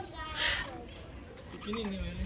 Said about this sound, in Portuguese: E aqui tem o periquito da caatinga.